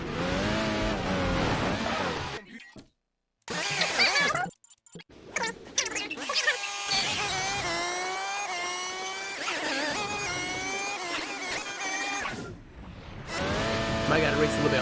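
Cars race in Midnight Club 3 Dub Edition Remix, engines revving and shifting through rising gear sweeps with tire squeal, loud and nearly continuous with brief dropouts, while someone talks over the game.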